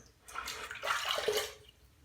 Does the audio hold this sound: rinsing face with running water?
yes